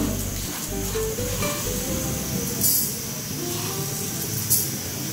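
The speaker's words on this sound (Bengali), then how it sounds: "এবার আমি এতে দিয়ে দিচ্ছি 5 ফোড়ন" Panch phoron five-spice tossed into hot oil for a Bengali kul (jujube) pickle, giving a steady close hissing sizzle with faint clinks of a utensil against the pan throughout.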